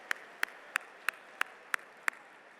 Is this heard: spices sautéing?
no